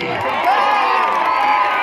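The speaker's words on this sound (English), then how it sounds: "Make some noise for Corey!" Crowd at a National Guard BMX show cheering and whooping for rider Corey, a loud sustained mass of shouting voices with children's high cries mixed in.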